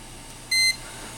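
A digital fan controller gives a single short electronic beep, a clean tone lasting about a quarter second and standing alone against faint room hum.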